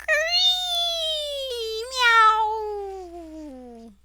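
A long, drawn-out wailing meow slides down in pitch with a brief rising screech midway, a person's voice imitating a cat while reading a Halloween storybook aloud.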